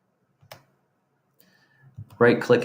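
A computer mouse gives a single sharp right-click near the start, followed by a pause and then a person talking toward the end.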